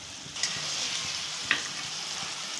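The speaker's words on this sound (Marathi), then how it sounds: "घट्ट होईपर्यंत हलवायचं आहे" A sweet paneer mixture sizzles softly in a pan while being stirred until thick, with a steady frying hiss and a couple of light clicks from the spoon.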